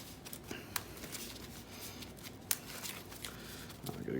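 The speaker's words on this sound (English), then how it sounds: "Get a good shuffle." Playing cards from the One Piece card game are shuffled close up, a quick run of crisp riffling flicks and taps over about four seconds, quiet with no voices.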